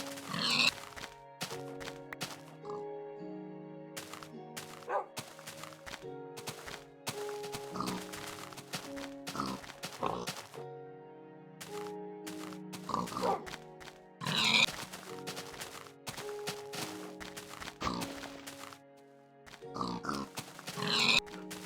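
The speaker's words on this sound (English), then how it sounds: "Maybe I should start killing the pigs." Minecraft pigs oinking and grunting repeatedly in a video game, short nasal calls in irregular bursts with brief pauses between, clear and up close, with no talk.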